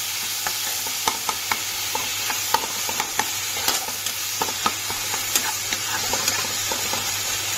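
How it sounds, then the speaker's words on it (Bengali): Tomatoes sizzle steadily in a hot pan for a vegetable chana dal, with a spatula scraping and stirring in repeated light taps. The sound is close and continuous, and no one speaks. "টমেটোটাকে বেশ ভালো করে আমি সটে করে নেব"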